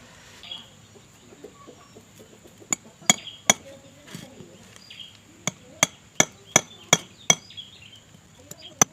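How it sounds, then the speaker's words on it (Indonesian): A hammer striking bicycle brake spring wire to shape a fishing hook, a series of sharp metallic taps, a few spaced at first and then a quicker run of about eight strikes, close with chickens clucking faintly nearby. "yang kita pukul di bagian sini menggunakan palu supaya lekukannya lebih bagus ya"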